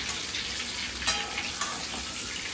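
Chicken cooks in a pan in a home kitchen with a steady, close sizzle and occasional stirring scrapes throughout.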